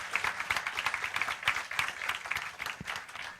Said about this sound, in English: a big round of applause to DY Patil